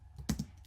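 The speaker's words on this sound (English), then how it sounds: "we're going to type format" A few quick keystrokes on a computer keyboard, two sharp close clicks in rapid succession in a quiet room.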